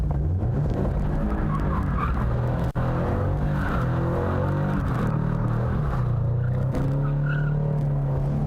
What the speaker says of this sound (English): Now the challenging part right here, we're going to clutch kick it, get this thing to drift.